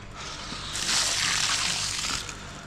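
Ice-cold soaking water from brining ham and bacon pours out of a container in a steady, close splashing rush that swells and then tapers off after a couple of seconds, with no talking.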